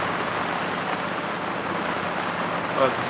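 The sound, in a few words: rain shower on a sailboat at sea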